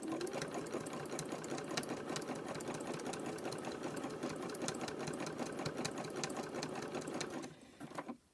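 A sewing machine stitches fabric-wrapped rope into a coiled bowl, a steady fast whirring chatter held close and loud for about seven seconds before it slows and stops near the end.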